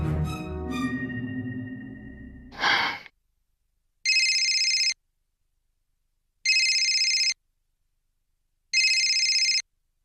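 Outgoing phone call ringing back: after a brief rustle and a sigh, three evenly spaced electronic ring tones, each lasting just under a second, separated by silence, clear and close.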